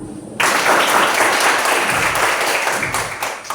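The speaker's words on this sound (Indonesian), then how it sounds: "Tepuk tangan dulu" A classroom of students in a mathematics lesson bursts into clapping after a brief quiet moment, a loud, dense burst of hands that stays strong and tapers slightly toward the close.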